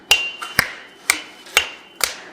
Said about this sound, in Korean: 충분히 가열되면 본격적인 망치질이 시작됩니다.